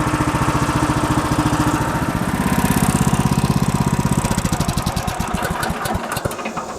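A steady, loud engine runs on an HM 126 sawmill being prepped for cutting cedar, with a mid-pitched rumble that drops into a slower, chugging pulse toward the end.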